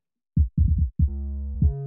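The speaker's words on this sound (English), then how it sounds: "make a drum beat that sounds like a full, crisp, high-end beat with low thump" A heavy, low drum beat built in Ableton Live: a few deep, thumping kick hits in a loose rhythm, followed by a sustained low bass tone that carries a further thump near the end. The beat is close and loud, with little high-end crispness.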